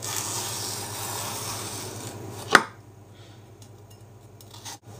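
A knife dicing onions and celery on a board, giving a steady rough scraping and chopping rush that stops after one sharp knock, leaving a quieter background with low hum.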